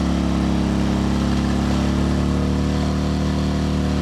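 A portable generator running hard in turbo mode while charging a Bulletti power station at about 1500 watts, a loud, steady, strained engine drone with a constant low hum and no pauses.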